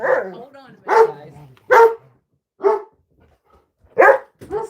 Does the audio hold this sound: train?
no